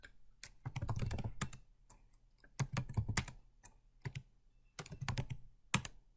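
Someone types on a computer keyboard nearby, with short bursts of clicking keys separated by brief pauses, and no talk.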